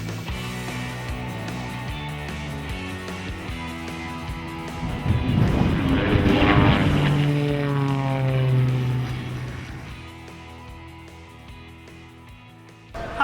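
A Dassault Falcon 2000 LX business jet passes during an aviation show, a loud engine roar building as it draws near, then a falling tone fading as it flies away.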